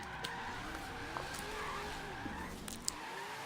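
A 1970 Dodge Challenger R/T drifting through city streets in Forza Horizon 3, its engine droning under wavering tire squeal, with brief sharp skids and other cars audible nearby.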